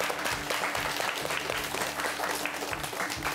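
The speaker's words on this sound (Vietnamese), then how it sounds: "Vỗ tay đi tụi con." Children clapping together for a guest on a cooking show held at a classroom, a steady dense round of applause close by with no talking.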